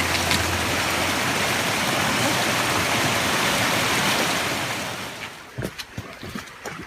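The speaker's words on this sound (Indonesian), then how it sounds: "Sungainya ada di bawah nih sahabat nih." A fairly large river flows below rice fields with a steady, loud rushing wash that fades slightly toward the end, where a few faint knocks or footsteps break through.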